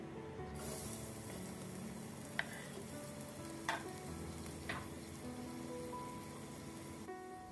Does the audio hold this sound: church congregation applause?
no